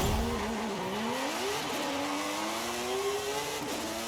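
Tuned racing car with a very high-horsepower build in Forza Horizon, its engine howling continuously as it climbs through revs, with pitch rising, dipping at gear changes and rising again, loud and steady throughout.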